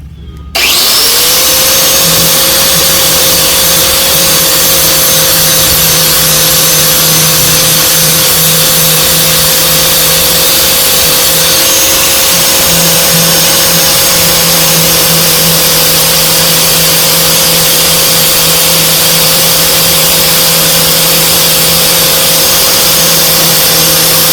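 A loud, steady whine from a power tool scuffing a plastic car bumper runs continuously and close by, a constant grinding drone after a brief start.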